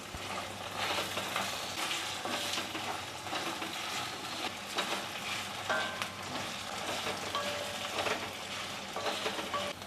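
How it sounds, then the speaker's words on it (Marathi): Chopped onion frying in a pan until golden, a steady dense sizzle with occasional stirring scrapes, fairly close and continuous throughout. "आणि आता लगेच आपल्याला कांदा घालायचा आहे आणि हा आता कांदा आहे ना तो सोनेरी रंगावर परतून घ्यायचा आहे"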